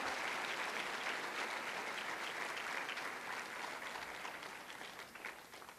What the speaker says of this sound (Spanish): Vamos a darle un aplauso fuerte a Cristo